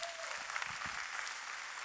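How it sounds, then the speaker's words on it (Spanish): A church congregation claps steadily during a worship service, a dense wash of applause with a few louder claps and a brief voice near the start. "Denle un fuerte aplauso al Señor."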